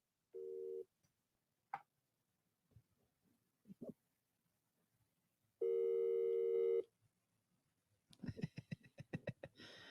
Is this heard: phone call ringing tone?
yes